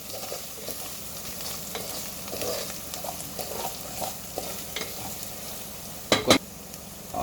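Country chicken curry is stirred and fried in a pan, with a steady sizzle and scraping spoon strokes throughout, plus a couple of sharper metallic clinks near the end.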